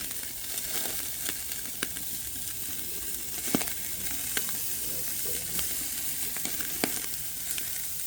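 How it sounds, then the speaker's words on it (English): Ilocano-style pork barbecue sears in a hot pan with a steady, soft sizzle, broken by scattered sharp crackles and pops from spitting fat. "I'm gonna sear both sides"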